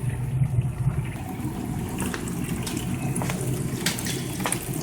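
Water from a cheap 12 volt pump on a trial run gushes in a steady, continuous stream, like a running tap, at moderate level throughout.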